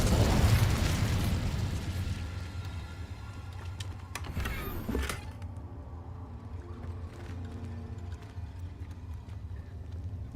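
A fire spell is cast in the game Hogwarts Legacy, heard as a sudden fiery burst near the middle that flares up briefly over a low, steady rumble of game ambience.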